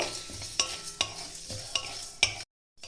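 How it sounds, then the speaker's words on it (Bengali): Whole spices dry-roasting in a kadai over a medium-low flame for chicken bhuna, with a spatula scraping and stirring in steady strokes about every half second, each scrape a sharp close rasp over a faint sizzle, then sudden silence. "এক মিনিট মিডিয়াম টু লো ফ্লেমে দিয়ে আমি ভেজে নেব"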